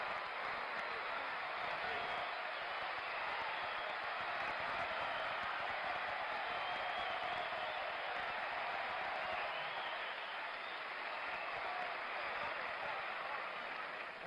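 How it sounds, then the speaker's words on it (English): A tennis crowd at the 1976 US Open final between Connors and Borg, a steady, dense roar of cheering and applause that holds at full strength for the whole stretch without a break. "Listen to the crowd."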